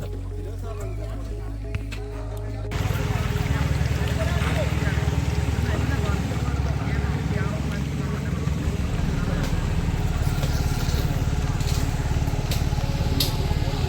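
A small boat's engine starts and chugs steadily in a low, continuous drone as the boat moves slowly toward a prawn farm, with people talking over it.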